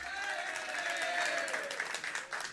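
An audience applauds at a Jain monk's sermon, a sustained wash of clapping from a crowd, mid-loud and slightly distant, with a voice faintly beneath.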